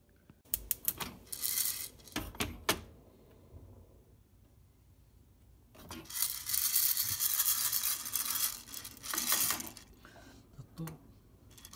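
Cameroon peaberry coffee beans rattling and clattering as they are shaken in a roaster over a home gas stove, with brisk bursts of rattling early, a brief pause, then a longer stretch of continuous shaking.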